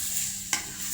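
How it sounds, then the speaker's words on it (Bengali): Rice frying in a pan over lowered heat makes a soft, even sizzle, broken once by a single short scrape of stirring, close and quiet with no one talking. "এখন চুলাটা একটু কমে দিব। চালগুলা নেড়ে নিব।"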